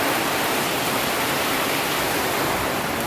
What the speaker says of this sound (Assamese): ইমান বৰষুণ দিছে একদম বহুত জোৰ আহিছিলে কিন্তু এতিয়া অকণমান কমিছে